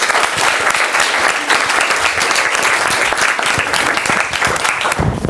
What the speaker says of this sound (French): Je vous demanderai d'applaudir cordialement Madame Celia Fontana.